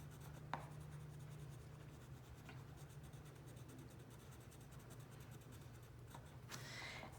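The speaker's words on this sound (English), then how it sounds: "I can just use that big crayon that I used to trace to fill it in" Big black crayon coloring in on paper, a soft continuous waxy scratching, close and quiet, with brief pauses and scrapes.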